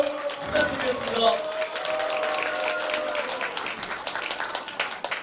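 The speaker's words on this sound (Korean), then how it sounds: "뜨거운 박수 한번 부탁드리겠습니다" Warm applause rises from the audience at a volunteer family group's achievement awards event, moderately loud clapping that continues steadily after a brief voice at the start, with faint talk trailing over it.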